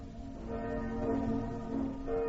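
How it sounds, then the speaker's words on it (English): An alarm bell rings out as a sound effect in a radio drama of Macbeth, a short resonant tolling with sustained tones over a low rumble and no voices. "Ring the alarm bell."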